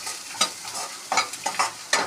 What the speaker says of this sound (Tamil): ஸ்டவ்வை அணைச்சிட்டு துருவின தேங்காய் ஒரு கப்பு போடுறேன். இதை அந்த சூட்லேயே வறுத்தரலாம்.